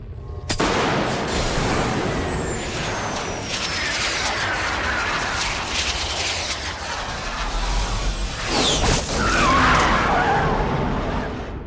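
Explosion in the Resident Evil 0 video game, a loud sustained roaring blast with crackling and rumbling debris that swells again near the end, with no talk over it.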